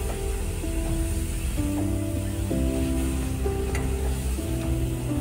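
Onion-masala base for paneer bhurji sizzles steadily in a pan while being stirred, a close, continuous frying hiss with occasional scraping.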